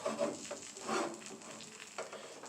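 Chicken quesadillas frying in a hot pan give off a steady close sizzle, with brief louder bursts of crackle as they are slid back in and shifted.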